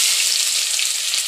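Chopped onion with fenugreek frying in coconut oil, giving a loud, steady, close hiss of sizzling that runs through the clip with no voices.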